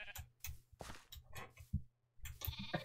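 Sheep in the video game Minecraft bleating repeatedly, a string of short, nasal calls in a quick uneven rhythm, close and clear with no talk over them.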